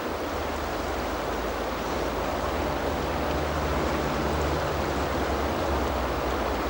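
Floodwater rippling heavily over a weir pool and the main lane into a mill, a steady, dense rushing wash that holds constant from start to finish with no voices.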